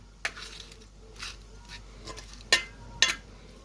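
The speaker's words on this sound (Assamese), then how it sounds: "এনেকৈ ভালদৰে মিশ্ৰণ মিক্স কৰি দিছোঁ" A utensil scrapes and clinks against a pan while turmeric and chili powder are mixed into a spice paste for fish curry, with a few sharp, close knocks spaced irregularly in an otherwise quiet kitchen.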